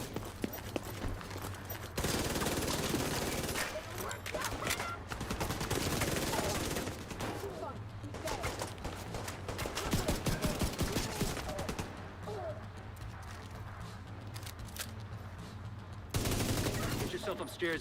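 Weapon fire in the shooter game The Division 2, repeated bursts of gunshots in volleys with short gaps and a steady game ambience underneath, loud and sustained across the whole stretch.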